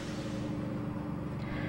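Two new SUVs drive away from a car dealership, a steady low engine rumble with road noise that stays moderately loud over the short stretch.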